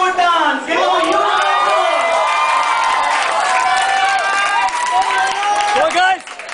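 A crowd cheers, shouts and whoops loudly for a Bollywood dance performance, a dense sustained roar of excited voices with high-pitched yells throughout, dropping slightly at the very end.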